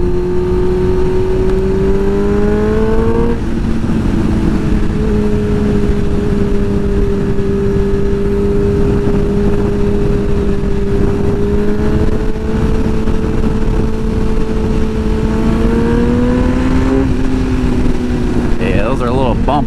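A Suzuki GSXR 1000 sportbike fitted with a Brembo master cylinder and Yamaha R1 calipers hums along at a steady cruise, with its engine tone rising and dipping through shifts. The engine sound stays loud and constant and sits close to the listener.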